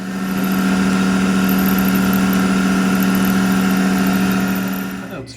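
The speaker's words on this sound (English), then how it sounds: "it's going to cut those pockets out, and then we're going to use those pockets as reference also to machine the rest of the part" A CNC machine cuts pockets into a shark tooth survival knife blank, giving a loud, steady machining drone with a strong low hum and bright overtones that runs unbroken for about five seconds, then stops abruptly at the end.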